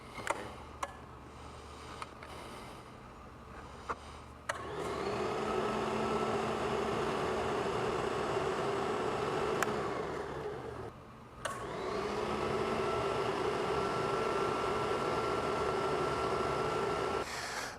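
An AdvanceScrubber floor scrubber runs with its squeegee lowered to the floor, giving a loud steady motor and vacuum roar that cuts out briefly and then starts again, with a few clicks before it starts.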